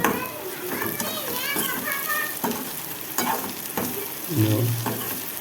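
Vaseti leaf bhaji sizzles steadily in a pan on a village kitchen stove, broken by short scraping stirs, while children play and chatter in the background.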